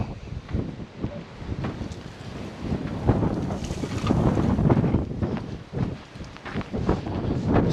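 Strong, cold wind with rain whips across the Taman coast, roaring and buffeting the microphone in a constant gusty rush that swells and dips throughout, with no voices.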